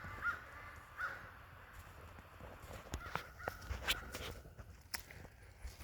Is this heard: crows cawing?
yes